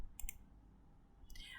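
Quick mouse clicks on a computer while working in Microsoft Word, a double click near the start and another short click burst near the end, faint and close.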